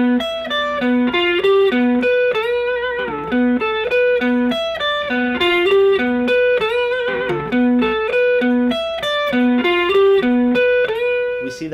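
Distorted electric guitar plays a pentatonic lead lick with an added exotic note, closing on a string bend; a steady, loud run of single notes stands alone with no talk.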